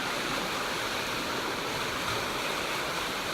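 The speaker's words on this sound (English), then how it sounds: "It's kind of loud here because there's this really cool stream that I'm walking across." A swollen creek on the Appalachian Trail rushes loudly and steadily close by, a dense unbroken roar of flowing water with no voices.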